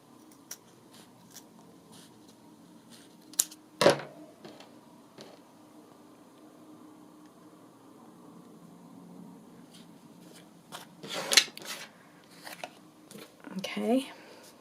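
Scissors trim paper material for a journal pocket, a few sharp close snips spread across a quiet room, with a voice speaking between the cuts.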